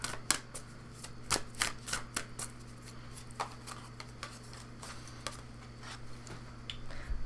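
A deck of cards shuffled close up, a run of sharp riffling snaps and soft flicks in quick bursts, with a low steady hum underneath and no talking.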